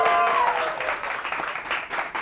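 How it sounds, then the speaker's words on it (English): An audience claps and cheers in a short burst to vote during a cupcake decorating contest; a voice is briefly heard at the start, and the crowd noise rises and falls under it. "Everybody who votes for Coco's amazingness, cheer"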